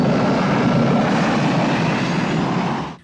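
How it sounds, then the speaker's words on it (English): A small airplane from a James Bond film flies low in a steady, loud engine drone with broad rushing noise that holds evenly and then cuts off abruptly at the end, with no voices. "This leads him to make use of the airplane provided by Q and hidden behind the backside of a fake horse"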